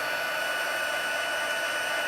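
A heat embossing tool blows hot air in a steady, even whoosh with a faint high whine, close by and constant for the whole stretch, without speech.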